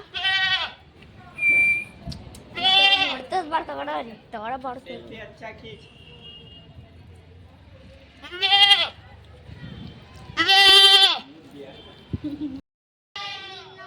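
Sheep bleat loudly and close in several separate calls, a few quicker cries mixed among them, while people talk quietly in the background between the calls.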